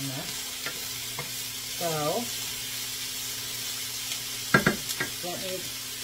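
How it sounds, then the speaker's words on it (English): Bacon frying and being stirred in a pot for bacon chili, a continuous close sizzle with a low steady hum beneath, a few scraping strokes and clustered clinks near the end, and a brief spoken word. "I'm just trying to get my bacon crispier than soft"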